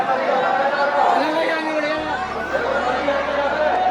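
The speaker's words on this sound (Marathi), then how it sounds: "गर्दी बघा किती." A dense crowd chattering at a temple in Vrindavan, many overlapping voices in a steady busy murmur close around, continuous throughout.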